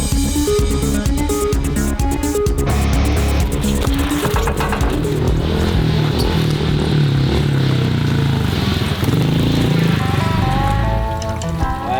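A two-stroke dirt bike fitted with a very short FMF exhaust muffler revs hard and close, its raspy, crackling note rising and falling in sharp bursts throughout.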